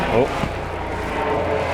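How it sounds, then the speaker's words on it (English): A low, steady rotor-engine drone fills the background, rumbling continuously overhead with a faint voice briefly at the start. "Wait for this helicopter to go over the top."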